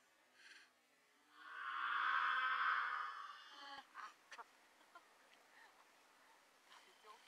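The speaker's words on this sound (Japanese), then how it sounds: "カラスいるんだよ。" On a golf course at The Lakes Country Club, a crow gives one loud, harsh, drawn-out caw lasting over a second, followed by faint scattered clicks and rustles.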